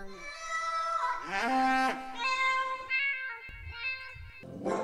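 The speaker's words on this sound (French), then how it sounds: "des bruits d'animaux qui étaient autotunés" A melodic run of pitch-corrected animal calls, meows and other bleating and mooing sounds, sliding between notes like a tuned vocal line.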